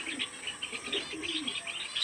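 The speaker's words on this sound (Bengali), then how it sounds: "এখানে পায়রাগুলো বসে।" Pet pigeons on their perch coo softly in a repeating low rhythm, with faint chirps of other caged birds mixed in; quiet, fairly close, no talking.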